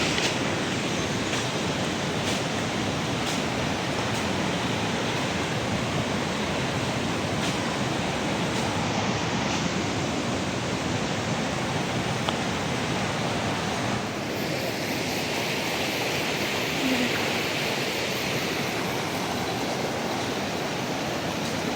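Loud, continuous roar of floodwater rushing along a road, a dense unbroken surge that stays steady throughout with no voices over it.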